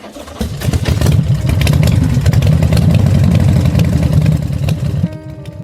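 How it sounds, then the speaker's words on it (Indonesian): A motorcycle engine catches and runs loud and close, with a rough, steady mid-pitched idle that continues for several seconds before it cuts out abruptly. "Suara mesin motor akhirnya menyala."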